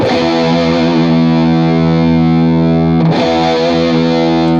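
Heavily distorted electric guitar through an amp sim, blue and gold speakers in one cab, a sustained chord ringing loud and steady with a fresh attack about three seconds in.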